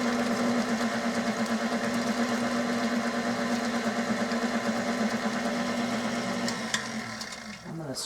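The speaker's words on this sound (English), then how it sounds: "I hope my mixer isn't making too much noise." An electric mixer beating cookie dough with vanilla and almond extract, a loud steady motor whine with a rattling hum that fades near the end, close up with no talking.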